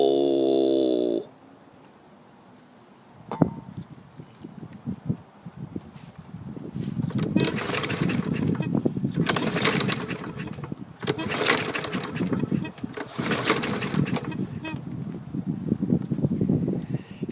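A Yard Machines lawn mower is yanked several times on its pull cord, each pull a ragged rasping burst of cranking and sputtering that comes in repeated surges, close and fairly loud.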